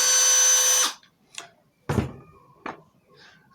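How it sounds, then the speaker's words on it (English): A high-pitched rotary tool whine, drilling out a plastic rivet on a Smart Roadster front lock assembly, cuts off abruptly after a second, followed by a few scattered clunks and handling knocks. "You have to drill against the rivet so it heats up the plastic and jumps out."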